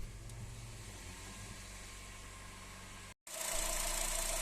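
A 2012 Honda City engine idles steadily just after starting, a continuous low rumble with faint vibration, broken by a brief dropout before it resumes slightly brighter.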